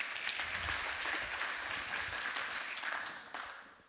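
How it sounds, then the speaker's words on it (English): Seminar audience applauding a speaker arriving on stage, a dense, steady wash of many hands clapping that thins slightly toward the end, with no talking over it. "Give him a big applause."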